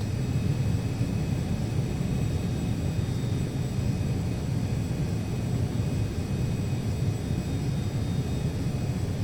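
Simulated jet engines of a Cessna Citation CJ2 in Prepar3D roar in a steady, dense rumble with broadband hiss, holding constant and loud throughout with no talk.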